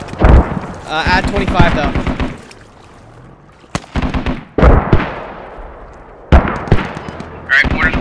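Mortar strikes explode in a tactical multiplayer squad video game, several sharp booming impacts with rumbling tails spaced a few seconds apart, heard amid radio-style voice chat between players.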